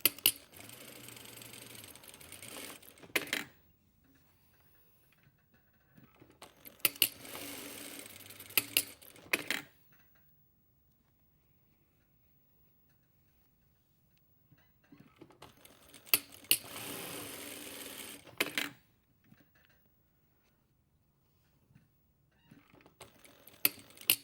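A sewing machine stitches a pocket flap seam in three separate bursts of quick rattling needle clatter, each several seconds long, with near silence between them.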